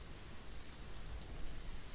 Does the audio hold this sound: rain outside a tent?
yes